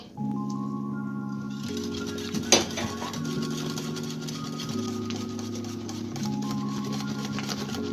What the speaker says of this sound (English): You want to mix this until it's smooth and you don't want to see any dry flour